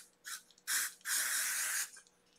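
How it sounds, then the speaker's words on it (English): Spray sunscreen hisses from an aerosol can onto beads in three bursts, a short puff followed by two longer sprays, the last lasting close to a second, close up in a quiet room. "I am going to spray it, my spray sunscreen, right on top of here."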